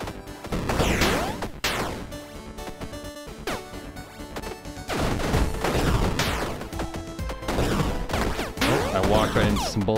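Rapid bursts of gunfire and crashing impacts come from a free-to-play roguelike action game. The shots clatter densely in waves, with brief pauses between volleys.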